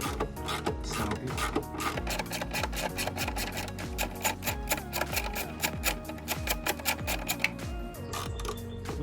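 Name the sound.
socket wrench removing engine cover bolts on Ford F150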